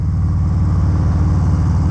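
The Milwaukee-Eight 107 V-twin of a 2019 Harley-Davidson Low Rider rumbles in a loud, close, steady low throb with an even pulsing beat and no voices.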